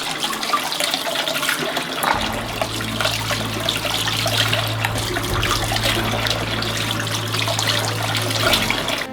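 Water trickles and pours steadily into a microwave-safe container of small cut chicken breast pieces, a continuous splashing flow with a low running hum beneath it lasting several seconds.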